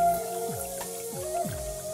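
Water running and dripping into a wash basin during handwashing, with soft splashes and drips close by, steady and fairly quiet.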